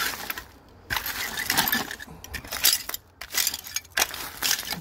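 Old glass bottles clink and scrape against one another while someone digs through a 1950s dump, giving irregular bursts of clatter and rustling with short quiet gaps between them.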